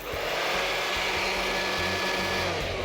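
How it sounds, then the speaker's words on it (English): A leaf blower's steady, loud motorized roar of rushing air, continuous and unbroken throughout, close by with no voices. "You need a leaf blower."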